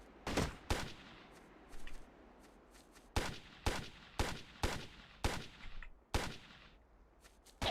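Gunfire in the Ghost Recon video game: about a dozen sharp, separate shots spaced irregularly, loud and distinct against a quiet background, with no talking.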